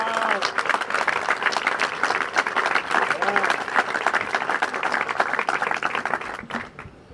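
A crowd at a political rally in Portugal claps heartily, dense applause building and holding before tapering off at the end, with a voice briefly audible over the clapping.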